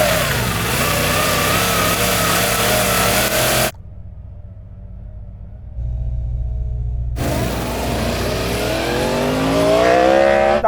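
Car engines roar and rev hard as vehicles accelerate in a drag race including a Ferrari SF90 and Porsche Taycan Turbo GT, with a pause of lower rumbling before another loud, rising engine surge; no talking.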